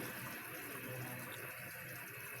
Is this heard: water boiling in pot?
yes